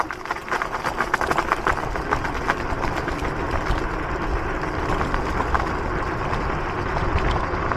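A Kukirin G2 electric scooter with both motors engaged accelerates at full throttle in third speed, a steady close motor whine with a rough buzzing texture and rushing wind noise, holding at an even level.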